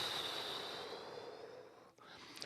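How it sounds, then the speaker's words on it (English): A slow, close breath drawn in and let out, soft and airy, followed by a brief pause and a faint second intake; no speech. "So just a couple of breaths here."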